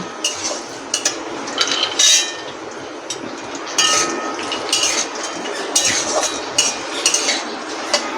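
Pistachios fry in a pan for kacha papaya pulao, with steady sizzling and repeated metallic scrapes and clinks of a utensil stirring against the pan, close and fairly loud throughout.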